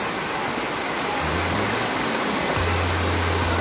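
Constant roar of Bulinaw Falls number 3 in Bolinao, Pangasinan, Philippines, a dense rushing wash of water, loud and unbroken, with a faint low hum underneath.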